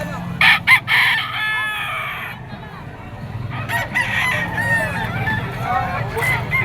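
Roosters crow at a busy gamefowl market in Bocaue, a Picom Golden Boy sweater rooster with yellow legs among them, the crows ringing out near and loud over steady crowd murmur and clucking.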